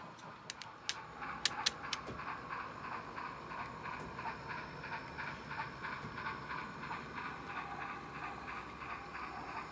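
An HO scale model Union Pacific Big Boy articulated steam locomotive runs with a steady hissing, rumbling chug, a few sharp clicks early on, and a rhythmic pulse throughout, with no talking.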